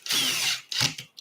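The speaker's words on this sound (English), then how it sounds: "before I put a screw in with a power tool, I always go backwards first" A power drill drives a screw into an Arrma 6S RC car part, a sustained whir of about half a second followed by two shorter bursts, close and loud.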